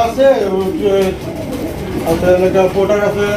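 Pigeons on a bird farm cooing in repeated soft, rolling calls that overlap one another, close and fairly loud throughout, with the murmur of people talking mixed in.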